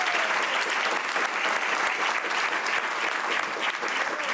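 Steady applause from an audience after a panel discussion at a university event, dense continuous clapping that carries through without a break.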